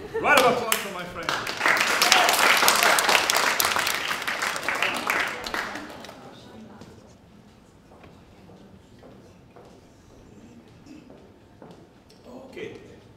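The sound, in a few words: audience applause for volunteer pianist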